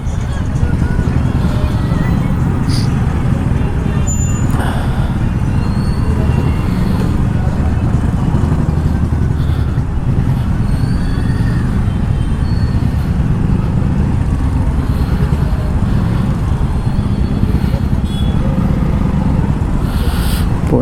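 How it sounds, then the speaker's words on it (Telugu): Heavy traffic on a busy street during a Ganesh festival crowd, a loud continuous roar of engines with occasional horn-like tones and clattering, with people talking throughout. "ఏం ట్రాఫిక్ రా నాయన, ఏం ట్రాఫిక్ రా ఇది"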